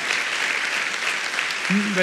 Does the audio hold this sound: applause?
yes